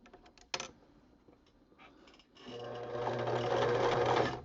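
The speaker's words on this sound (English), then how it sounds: "I'm going to stitch straight along that line" A sewing machine stitching quilt binding: a few brief clicks and short bursts, a pause, then a steady accelerating run of stitching that holds to the end, close and alone.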